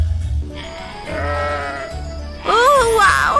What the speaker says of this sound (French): tu es le plus joli mouton que je n'ai jamais vu